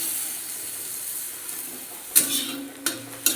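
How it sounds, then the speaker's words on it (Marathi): Garlic and green chili paste hits frying onions in a pan, a steady soft sizzle with a few sharp clinks of a spoon stirring near the end. "त्यात आता आपल्याला टाकायचे आहे लसूण आणि हिरव्या मिरचीचा ठेचा."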